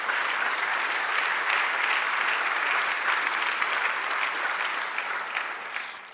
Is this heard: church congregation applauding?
yes